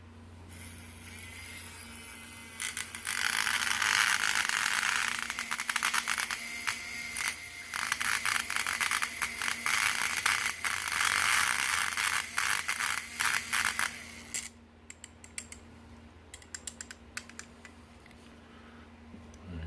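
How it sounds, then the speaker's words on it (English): A small electric mixer stirs custom paint for a diecast VW Bug restoration, giving a steady, close, buzzing whir with slight rattles for about twelve seconds before it cuts out, leaving a faint hum and scattered clicks. "I'll go ahead and mix this up with the electric mixer"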